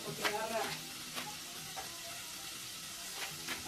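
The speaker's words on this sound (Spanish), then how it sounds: "Vamos a dorar el arroz. Bien doradito." Rice toasts in a hot pan with a steady, soft sizzle and frying crackle, broken by repeated scraping stirs, all fairly quiet and close.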